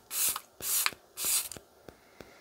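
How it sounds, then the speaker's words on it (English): Charlotte Tilbury Airbrush Flawless Setting Spray misted from a nearly empty bottle, three short close hissing sprays in quick succession, each followed by small clicks of the pump. "for setting spray, I am taking the Airbrush Flawless Setting Spray from Charlotte Tilbury"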